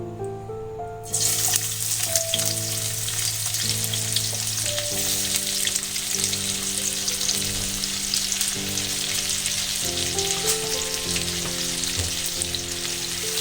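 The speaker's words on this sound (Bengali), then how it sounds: "এই তেলের মধ্যে আমি আর একটু তেল দিয়ে দিয়েছিলাম, তেলটা কম লাগছিল। এর মধ্যে আমি পেঁয়াজটাকে ভেজে নিচ্ছি।" Onions frying in oil for egg biryani give off a steady, loud sizzle close by, which starts abruptly and continues under a faint background tone.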